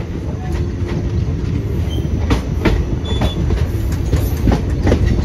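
The 13009 Doon Express from Howrah to Haridwar runs on rails near Najibabad, giving a steady, loud rumble of wheels on track with periodic clickety-clack beats and faint high squeals, continuous and close throughout.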